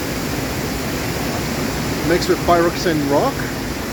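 Powerful rushing water roars as a steady broadband wash close behind someone talking about rocks at a little-documented rockhounding site, the torrent continuous throughout and his voice riding over it.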